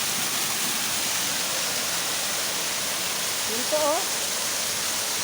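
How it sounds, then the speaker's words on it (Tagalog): A steady, dense rush of falling water fills a waterfall at the Golden Cave in Tulunan, close and constant throughout, with a brief voice speaking over it near the end. "mayroon pang falls. Napakagandang falls."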